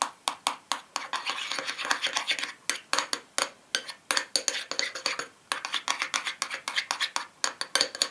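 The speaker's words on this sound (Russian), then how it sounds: "Теперь мы все это перемешиваем." A homemade facial hair removal mixture that includes shaving foam being stirred briskly in a bowl, producing rapid rhythmic scraping and clinking of a utensil against the container, close and continuous.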